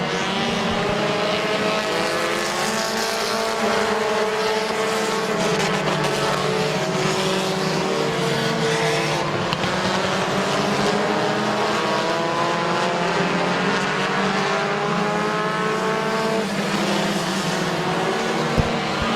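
Compact race cars lapping Midvale Speedway, several engines droning together as they run down the back straightaway, with rising and falling engine tones layered into a continuous loud roar.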